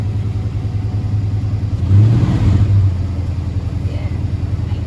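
A 1972 Dodge Dart with a V8 gets a brief blip of the gas, its low idle rumble swelling into a short, loud rev and then settling back to a steady idle.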